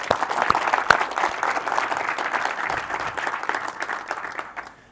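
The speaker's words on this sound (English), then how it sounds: "So a round of applause for you all to be here." Applause from a conference audience at a startup societies event, a moderate room full of clapping with some sharp individual claps, tapering off toward the end.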